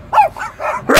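A person's voice imitates a dog barking outdoors, giving three quick, loud, close woofs in a row.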